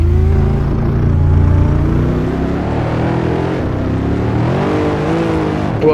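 A Mercedes W213 E63S Estate V8 in Assetto Corsa, racing on Bikernieki, droning loud and steady from the cockpit, with the engine note rising and falling through gear changes, alone throughout.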